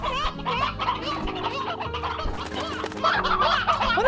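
Dense flock of chickens in the Slime Rancher video game, clucking and squawking continuously and loudly over a low game-music bed, with busier overlapping calls toward the end.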